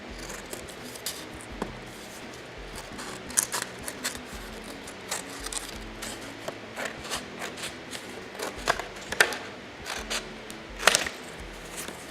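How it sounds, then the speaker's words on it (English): Scissors snip through folded paper card along a perforated line, giving a series of quiet, irregular crisp cuts and rustles close by. "I'm taking the scissors and cutting down the perforated line."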